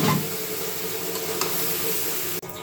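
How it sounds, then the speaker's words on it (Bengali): Water taro pieces are stirred in a frying pan, giving a continuous soft sizzle with occasional light scrapes. The sound stays fairly even and close, with a brief knock near the end and no talking. "এবার আমি কচুটা দিয়ে দিলাম, এখন সুন্দর করে নাড়িয়ে নেব।"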